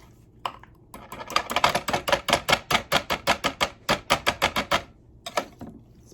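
Thick yogurt in a bowl being worked with a whisk for mini cheesecake bites, giving a close run of quick, evenly spaced scraping clacks that build to a steady rhythm and then break off, with no talking.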